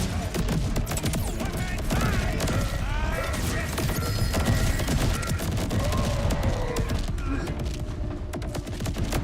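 Dense, continuous gunfire in the video game Borderlands 4, with rapid overlapping shots and impacts filling the whole stretch at a loud, busy level.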